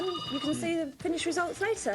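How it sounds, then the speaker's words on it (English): A telephone rings in a television studio setting, its bell repeating in short bursts beneath a person speaking over it. "That's the phone again."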